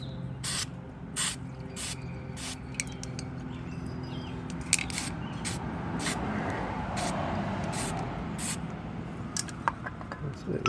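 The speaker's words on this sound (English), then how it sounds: "this is how you apply the graphite lube" Graphite lube sprays in short repeated hissing bursts onto the outer sheave cover of a go-kart's Comet torque converter, close by, with a low background hum and occasional clicks.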